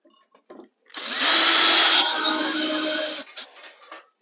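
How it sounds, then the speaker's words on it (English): A power drill drives a screw into a wall stud while a DIY grow light shelf is being mounted: a few faint clicks, then one loud, close whirring burst lasting about two seconds that winds down, followed by brief handling noises. "we'll go ahead and start installing them with the screws"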